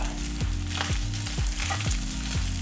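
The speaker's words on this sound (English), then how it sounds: "you're gonna take your meat that you just pulled out and throw it onto the skillet" Taco meat sizzling loudly on a hot skillet, a dense continuous frying hiss with repeated scraping strokes roughly every half second as it is stirred, close up with no talk.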